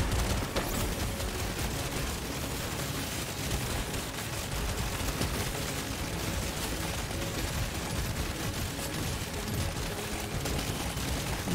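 Dense, unbroken rapid gunfire from the Deep Rock Galactic: Survivor video game, a loud crackling barrage mixed with small explosions and no pauses.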